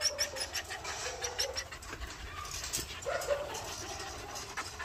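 Belgian Malinois dogs for sale barking and whimpering in a kennel setting, short sharp yelps repeating through the clip with birds and chickens faint in the background.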